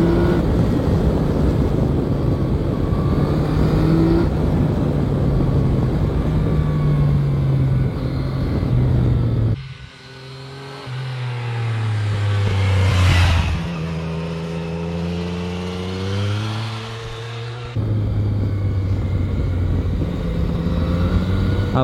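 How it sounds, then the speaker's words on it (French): Yamaha MT-09 Tracer GT three-cylinder motorcycle, 2020 model, revving and accelerating loudly up close, with a rising pitched engine howl between 10 and 18 seconds; steady wind and road roar fill the rest, with no voices. "là vous avez un petit peu le bruit de ce 3 cylindres."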